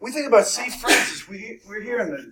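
A single sharp, close sneeze bursts out partway through a person speaking to a group. It is brief and loud, and the talking continues around it.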